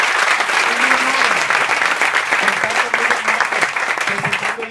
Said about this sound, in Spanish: Un aplauso para Miriam